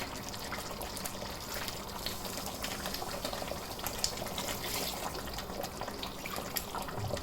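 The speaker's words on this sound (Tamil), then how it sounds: "இப்போது இதில் நம்ம ஒரு 2 கிளாஸ் அளவுக்கு தண்ணி சேர்த்துக்கிடலாம்." Water pours steadily into a cooking pot of mutton biryani, a continuous gushing splash that fills the whole stretch at a constant level.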